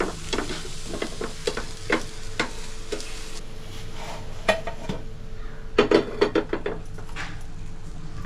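A paratha roasting on a hot pan, with a steady low sizzle and intermittent sharp clinks and scrapes of a utensil against the pan, close and moderately loud with no talking.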